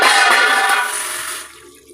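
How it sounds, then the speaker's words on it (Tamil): Tamarind water, soaked in rice-rinsing water, pours steadily into a pan of cowpea tamarind curry, a loud continuous gushing splash that tapers off toward the end with no talking. "இப்போ புளி கரைச்ச தண்ணி அதில் ஊற்றிக்கலாம்"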